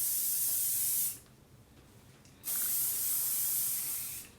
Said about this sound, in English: So we're gonna take some hairspray. This is the Sebastian